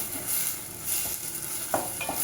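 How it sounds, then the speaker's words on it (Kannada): Tomatoes frying and sizzling in a pan for tomato rasam, a steady hiss with a few stirring scrapes and clinks near the end, close and moderately loud, with no talking. "ಇವಾಗ 3 ಟೊಮೊಟೊ ಸಣ್ಣ 3 ಟೊಮೊಟೊ ತಗೊಂಡಿದ್ದೀನಿ. ಇವಾಗ ಫ್ರೈ ಮಾಡೋಣ."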